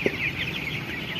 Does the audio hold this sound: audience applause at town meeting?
no